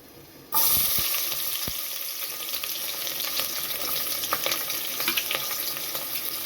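Cumin, fennel, curry masala, cinnamon and chopped small onions frying in hot oil for a mutton trotter soup, a steady close sizzle that starts abruptly and carries on with crackling pops throughout.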